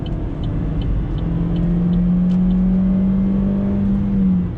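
A 2017 Opel Corsa 1.4 automatic's engine drones and rises steadily in pitch as it accelerates to overtake, heard from inside the cabin over road rumble.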